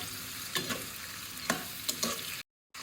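Prawns stir-fried in a pan with mushrooms for mixed fried rice, giving a steady sizzle broken by several scraping stirs, close and moderately loud, with a brief gap near the end.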